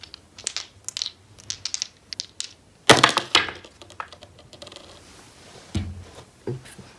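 Astrology dice are rolled and clatter together in a sharp burst of hard clicks and knocks, preceded by lighter scattered taps and followed by a few settling knocks, with no talking.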